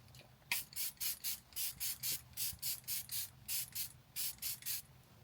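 Fenty setting spray pumped in a rapid run of about fifteen short, crisp hissing bursts, close and fairly quiet, evenly spaced with a few brief pauses, no voices.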